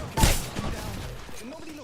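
Enemy gunfire in the Old School RuneScape minigame Tempoross, a sharp burst of shots near the start followed by a rumbling game-sound bed, with a voice talking over it.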